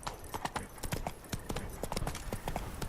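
Horse hooves clip-clop in The Witcher 3 video game, a steady rhythmic trot of sharp, evenly spaced hoofbeats, fairly close and moderately loud, with no voices.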